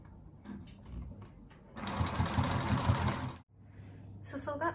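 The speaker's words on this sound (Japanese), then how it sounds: "脇の縫い目の部分からミシンがけをしていきます。" A sewing machine stitches a blouse seam, starting from the side seam, in a fast, close whirring run of about a second and a half, with shorter bursts of stitching before and after and some talking in between.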